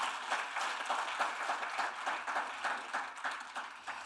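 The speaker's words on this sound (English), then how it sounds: "A round of applause, a louder round of applause." Audience applause at an international forensic medicine conference, a steady broadband wash of many hands clapping that swells and dips slightly for about four seconds, moderately distant and with no voices over it.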